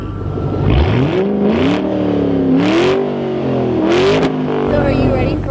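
A Ford Mustang engine revs loudly in repeated rising and falling sweeps, each climb in pitch followed by a brief drop. The revs are close and sustained, with a steady rumble underneath, and no voices are heard.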